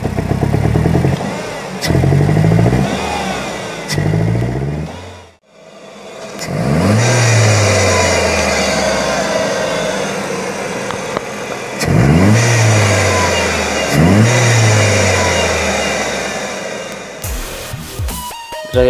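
A Ford Fiesta engine with a vibration and power-loss fault is revved repeatedly, each rise and fall loud and close, broken by a brief silence and ending in clatter.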